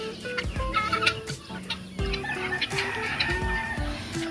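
Several chickens cluck in a backyard flock of hens and roosters, with overlapping calls and short squawks, close and steady, the birds clearly audible over rustling ground noise.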